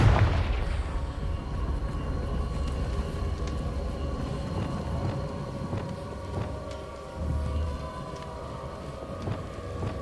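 A Confringo blasting spell explodes in the Hogwarts Legacy video game, opening with a loud booming burst followed by a sustained rumbling roar and scattered crackles over a steady low game ambience.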